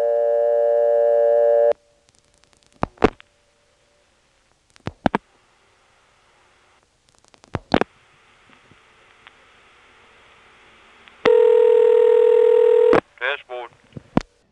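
A 1977 step-by-step telephone exchange in Belhaven, North Carolina, answers after 825 is dialed. A steady tone plays, then come sharp dial clicks with quiet gaps and a second loud tone. A few brief chirps follow.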